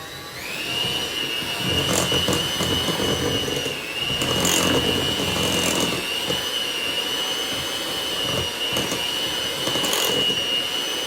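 Electric hand mixer whirring through cookie dough with brown sugar and eggs, a loud steady high-pitched motor whine close by, with bursts of thicker churning as the beaters work the dough.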